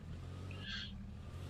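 A car engine in the video game H1Z1 holds a steady low drone throughout, with a brief high tire-like squeal rising over it midway.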